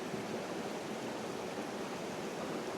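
Small waterfalls on a river rush steadily in the background, a continuous broadband wash of falling water that holds an even level throughout with no breaks.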